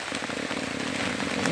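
Heavy rain pouring down on an evening outdoors, a steady dense broadband patter that stays loud and continuous throughout, with no voices.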